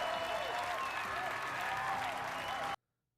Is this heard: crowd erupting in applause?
yes